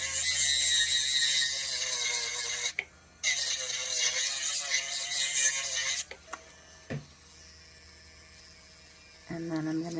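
Electric nail file buffing the underside of a dip-powder nail, a steady high whine that cuts out briefly, returns, then stops; faint clicks and a low hum follow with quiet handling sounds.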